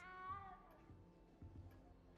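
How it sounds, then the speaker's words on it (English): A cat meows in Hogwarts Legacy, one drawn-out, wavering mew at the start that fades into quiet game ambience with soft thumps. "You don't need to be frightened, little cat."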